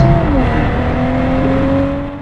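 A BMW M340i sports sedan drives along, its engine giving a steady, loud cabin drone with a smooth sustained tone that eases slightly at the end. Nobody speaks.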